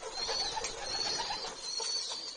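Racing pigeons in a loft make soft, continuous cooing under a steady hiss of background noise, faint and close, with no voices.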